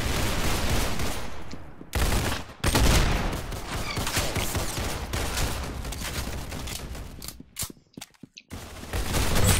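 Rapid gunfire in the Roblox shooter game Arsenal crackles in dense bursts, loud and close, with brief pauses and a few mechanical clicks between volleys.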